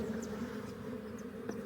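Honey bee swarm buzzing during a swarm catch at dusk, a steady low hum of many bees with a few individual bees passing close, fairly faint.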